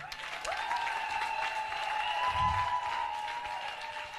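Church congregation in a sermon-style service breaks into sustained clapping and cheering that stays at an even level from start to finish, with a steady sustained tone running beneath the crowd noise.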